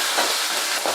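Small onions and garlic sautéing in a pan, a steady close sizzle with faint stirring swishes, brief and continuous.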